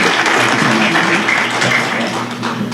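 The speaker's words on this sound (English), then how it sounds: "One more round of applause for our band" Loud, dense applause fills the room, a steady wash of clapping from a large audience without pause.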